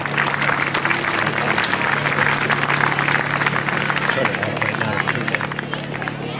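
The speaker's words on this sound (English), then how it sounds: "so please give him a round of applause" An audience at a Little League closing ceremony on a ball field claps steadily in dense, sustained applause, loud and close, with crowd murmur mixed in throughout.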